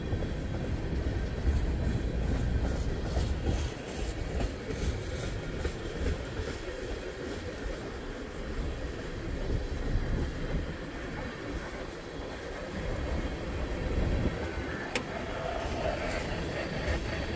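A Norfolk Southern freight train rolls past on a cold day, its wheels with a flat spot adding rhythmic thumping to a steady low rumble and clatter of railcars, heard alone at moderate distance.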